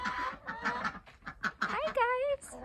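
Ducks quack in an outdoor setting near trees and other birds and chickens, giving several clear nasal quacks at close range, including a drawn-out wavering call near the end, with bird chatter mixed in.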